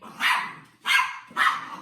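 A dog gives three loud, close barks at an even pace, each sharp and about half a second long, separated by brief quiet.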